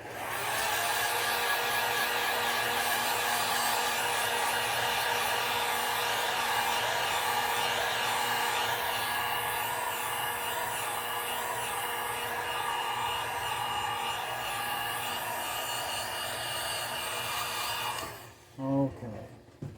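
A heat gun blows steadily on crackle paint on a crankbait lure, a loud, constant rushing whoosh for most of the time before it cuts off with a few handling clicks.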